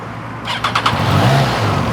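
A 2021 Triumph Trident 660 motorcycle engine starts close by, a short burst of starter cranking followed by the engine catching and settling into a low, steady idle.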